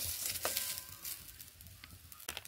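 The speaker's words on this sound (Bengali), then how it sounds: "আবার একটু ভালো করে নাড়চাড় করে নিলাম।" Cracked wheat (daliya) is stirred in a hot pan, giving a soft sizzle with scraping bursts from the spoon, moderately close, with no talking.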